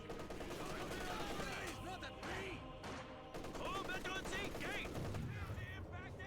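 Bursts of MG-34 machine gun fire crackle in a Company of Heroes 2 battle, mixed with other gunfire and game effects, while a commentator talks over the top.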